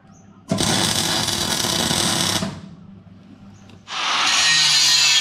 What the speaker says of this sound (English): doing some grinding today